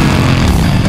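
A motorcycle engine in the video game GTA 5 revs hard and continuously for about a second, a loud, steady buzzing drone with no talk over it.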